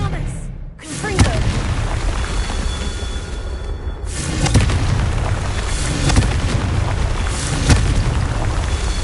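Dense booming blasts from a Confringo fire spell and combat in Hogwarts Legacy, loud and continuous with repeated heavy impacts, while a voice calls out over the din.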